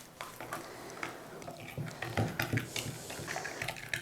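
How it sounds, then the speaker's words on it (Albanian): Sugar is stirred into sunflower oil in a bowl for melomakarona, with quiet, repeated scraping and clinks of a spoon at a close, uneven rhythm. "do i përzijem në mënyrë që sheqeri të tretet sa më mirë"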